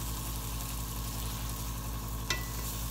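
Filet mignon sizzles steadily in a cast iron skillet with butter, a continuous close frying hiss with a brief sharper crackle as the steak is turned over once; no one speaks.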